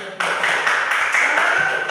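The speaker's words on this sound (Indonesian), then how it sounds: "Tepuk tangan untuk kelompok 1" Classroom applause for a student group in a coding and computational-thinking lesson, a short burst of clapping that starts abruptly and holds steady, close and fairly loud.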